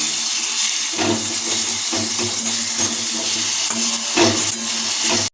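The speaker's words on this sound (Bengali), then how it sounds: "এই কড়াইতে যোগ করে দিচ্ছি কেটে রাখা একটা টমেটো কুচি আর কিছু কাঁচা লঙ্কা কুচি" Chopped tomato and green chillies being stirred in a kadai, a steady sizzle with periodic scraping strokes of the spoon roughly once a second, close and fairly loud, with no talking.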